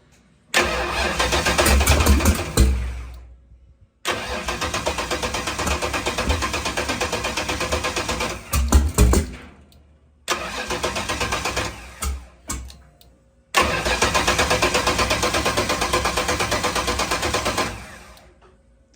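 A 363 small block Ford V8 in a Foxbody with Holley Sniper fuel injection cranks and fires several times, each start settling into a loud rough idle before cutting off, with silent gaps between runs.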